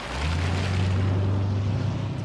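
A huge 6.75-litre V8 engine in a car under acceleration gives a loud, steady low droning rumble that holds evenly for about two seconds with no talking.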